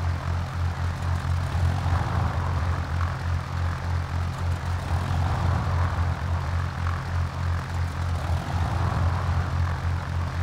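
Propeller airplane engine droning in the X-Plane flight simulator, a steady low throbbing hum with constant loud cabin-level noise and no speech.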